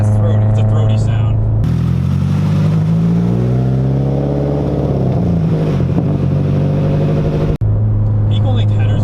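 A 2006 Subaru WRX STI boxer engine gives a loud, throaty, close rumble that swells as it revs and then settles, with people talking just before and after.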